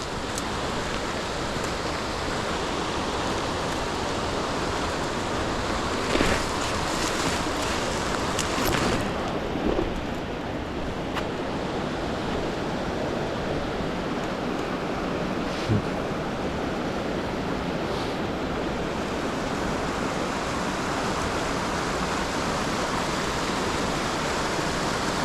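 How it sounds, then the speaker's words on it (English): A large waterfall in the Adirondacks roars as a loud, constant broadband rush close by, with occasional bumps and wind buffeting on the microphone and no talk. "there's a really epic waterfall right here"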